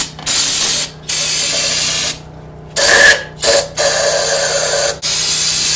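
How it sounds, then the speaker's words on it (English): Compressed air blasts over a small 4x4 tractor in loud, close bursts of hiss, about five separate blasts broken by short pauses, with no talking. "Get this guy compressed air."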